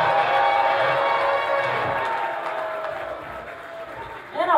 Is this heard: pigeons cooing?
no